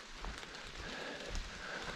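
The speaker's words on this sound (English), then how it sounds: "A lot of rain, a lot of mud." Steady rain patters on the Appalachian Trail, a dense, even hiss of drops on wet ground and leaves, with no voices.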